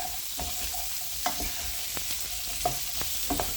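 Tinned potatoes sizzle steadily in a frying pan with onions while a utensil stirs and scrapes through them, giving a continuous frying hiss broken by several distinct scraping knocks, close and without talk.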